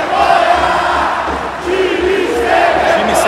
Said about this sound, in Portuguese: Torcida gritando time sem vergonha aqui no Maracanã, vergonha, vergonha, vergonha